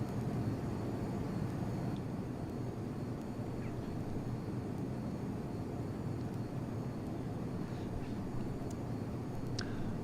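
F-22 Raptor jet in Microsoft Flight Simulator X cruising on a low-level flight, a steady, unbroken engine roar and rumble that fills the background at moderate volume with a few faint clicks and no voices.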